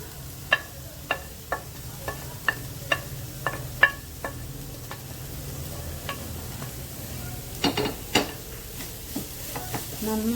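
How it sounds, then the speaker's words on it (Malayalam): Chopped snake gourd stir-fried in a pan for a Kerala-style coconut thoran: a spatula scrapes and taps in an irregular rhythm over a soft, continuous sizzle, close by. "ഇനി നമുക്ക് നമ്മുടെ പടവലങ്ങ അരിഞ്ഞത് ചേർക്കാം."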